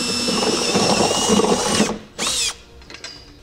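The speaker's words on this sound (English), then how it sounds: "a 17/32 bit and drill our forward mounting location" A loud, high-pitched power drill with a 17/32 bit whines steadily while boring into a 2015 Subaru Outback's metal frame for a trailer hitch, stops, then gives one brief final spin before falling quiet.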